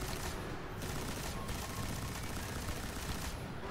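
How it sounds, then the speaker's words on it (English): Heavy gun unloading in the video game Destiny, a dense, continuous burst of rapid gunfire filling the whole stretch without pause, heard moderately quiet in the mix. "we're just going to kind of unload on them with my heavy gun"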